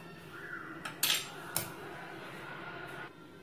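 A rava cake is moved onto a plate with a few sharp metallic clinks and taps of utensil against dish, close and fairly quiet over a low steady room hum.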